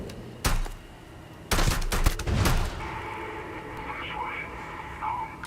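Gunfire and turret shots in the sci-fi game Starfield: a couple of sharp bursts, then a dense cluster of rapid shots in the middle, followed by a quieter humming stretch with faint electronic tones.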